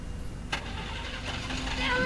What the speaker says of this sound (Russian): Тачка не заводится.